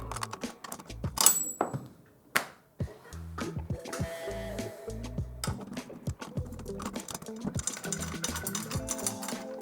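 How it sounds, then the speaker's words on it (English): Close, dry clicks and creaks as a drum key loosens the tension rods on a tom's batter head, with irregular turns, short ringing metallic tones and brief thumps between them. "We're gonna start by loosening all the tension rods."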